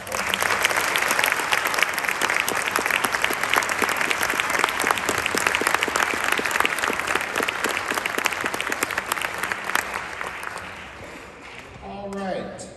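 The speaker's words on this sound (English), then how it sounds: "So can we give one final applause for them?" A crowd at a school awards ceremony claps loudly and steadily for about ten seconds, then the applause fades and a voice starts speaking at the end.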